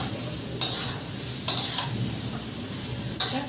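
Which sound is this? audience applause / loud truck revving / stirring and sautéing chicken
stirring and sautéing chicken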